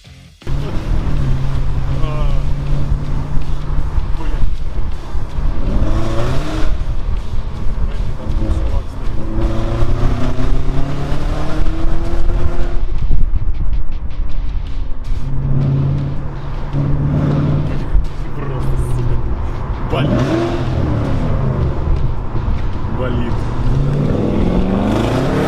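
A Porsche Panamera Turbo with a 4.8 engine and a tuned, loud exhaust revs and drives, giving a deep, loud engine roar that rises and falls through several pulls, heard from inside the car while people talk over it.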